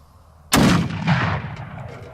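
A single loud, close rifle shot from a .300 Win Mag Accuracy International Mk13 sniper rifle firing a 150 grain round, a sharp blast followed by a long rolling echo that slowly fades.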